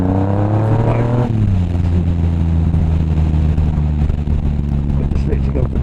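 A motorcycle pulls hard in second gear, its loud, close engine note climbing steeply, dropping briefly at a shift, then holding a strong, steady roar under a rider's voice.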